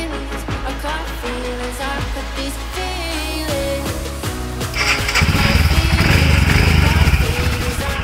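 A Royal Enfield Himalayan motorcycle engine runs close by with a steady low throb, growing louder and rougher about halfway through, with no talking.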